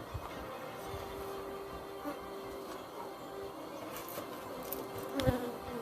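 Honey bees buzz steadily around an open beehive during an inspection, a continuous close hum with individual bees droning past and a few soft knocks of hive equipment.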